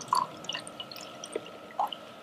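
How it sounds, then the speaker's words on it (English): Water poured from a beaker onto a Cherish pad, about 75 milliliters, heard as a few faint drips and splashes spread over a couple of seconds with quiet pauses between. "I'm going to pour 75 milliliters worth of water"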